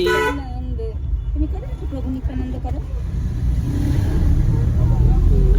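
A car engine hums steadily from inside the vehicle, rising slightly toward the end, while people chat over the drone.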